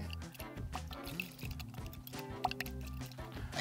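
Air blown into a liquid makes a steady stream of close bubbling and gurgling, with small drips and splashes throughout.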